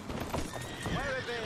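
Horse in the video game Red Dead Redemption 2 whinnies sharply while hooves clip-clop close by, a brief, fairly quiet burst with a faint voice in the background.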